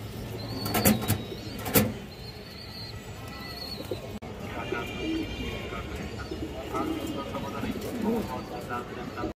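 Pigeons at a bird sale coo softly in the background, with a few sharp calls early on, while someone talks steadily over them for most of the stretch.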